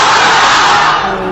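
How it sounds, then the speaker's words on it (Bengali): Dense, loud crowd of voices at an outdoor Islamic gathering on a madrasa ground, many people chanting the takbir together in a sustained roar that fills the whole moment. "অবিবাহিতরা তাকবীর পড়েন লিল্লাহি তাকবীর"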